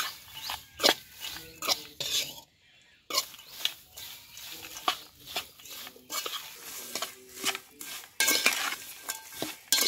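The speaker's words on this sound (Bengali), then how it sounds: "এবার একটা চামচ দিয়ে ভালো করে মিশিয়ে নিব।" Garlic pickle with spices and hot oil mixed by a spoon: repeated close scraping and clinking of the spoon against the container in an uneven rhythm, broken by a brief pause and joined by faint sizzling.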